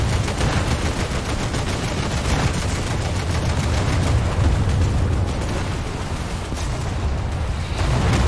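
Video game battle gunfire: dense, continuous rattling of rounds and explosions blending into a loud, unbroken roar of combat, with no clear separate shots and no talk.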